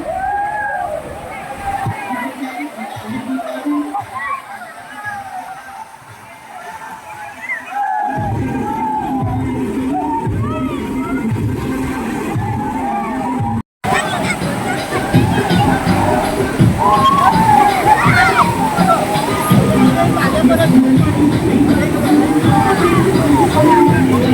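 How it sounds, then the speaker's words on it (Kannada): Artificial waves slosh and splash steadily in a resort wave pool, loud and continuous beneath a crowd's babble and chatter, with the water growing fuller after a brief break. "ಬೀಚಲ್ಲಿ ಯಾವ ರೀತಿ ಅಲೆಗಳು ಬರುತ್ತೋ ಅದೇ ರೀತಿ ಇಲ್ಲೂ ಸಹ ಮಾಡಿದ್ದಾರೆ"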